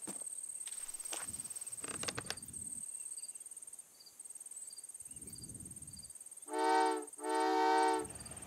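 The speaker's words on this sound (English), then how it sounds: "Cute little train." Two loud, tonal train horn blasts ring out over a steady chirp of crickets in the game Old Man's Journey, with a few soft thuds and rumbles earlier.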